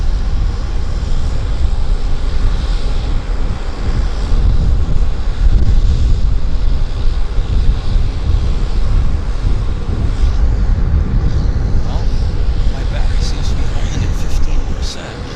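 An airliner climbs out after takeoff from Vancouver YVR, heading across the Pacific, as a distant, steady low roar heavily buffeted by wind on the microphone.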